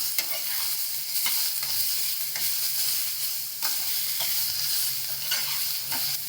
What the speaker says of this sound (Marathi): टॉमॅटो कच्चे अजिबात ठेवायचे नाही दोन्ही असं नरम होईपर्यंत चांगलं भाजून घ्यायचं